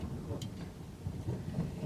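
Thunder rolls during a thunderstorm as a low, distant rumble that swells and fades over a couple of seconds, with rain-like hiss behind it and no speech.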